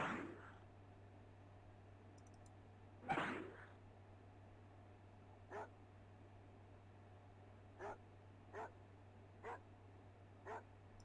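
Sparse, faint barks from a dog in the Amiga game The Jetsons: George Jetson and the Legend of Robotopia, spaced every second or two after two louder noise bursts, over a low constant hum.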